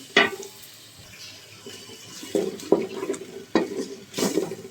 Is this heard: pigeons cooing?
no